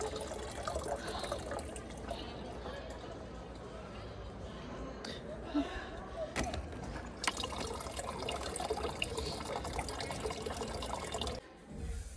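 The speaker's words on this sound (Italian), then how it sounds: "sono venuta qua nella fontana per prendere acqua, per lavarmi, per lavare" Water trickles and splashes steadily into a container at a public fountain in Catarroja, Valencia, a faint continuous flow with occasional knocks, and a voice speaks over it.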